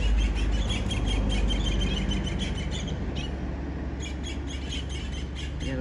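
Birds chirp before a storm in Gambia, a busy chorus of rapid tweets over a loud, steady rumble of wind or ambient noise, with clusters of calls throughout and no voices.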